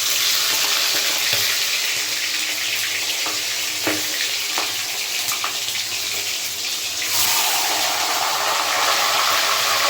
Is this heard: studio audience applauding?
no